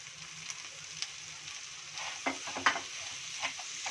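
A spoon stirs fried potatoes with sugar for halwa in a pan, making soft scraping strokes and light taps over a faint sizzle, close and quiet.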